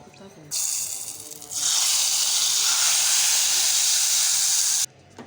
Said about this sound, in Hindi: अब हम इसमें बघाड़ लगाएंगे।